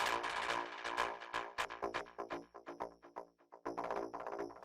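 A bright, buzzy synth bass with its filter cutoff disabled plays a rhythmic sequence of notes with a full, unfiltered tone, sustained and harmonically rich, with no other sounds.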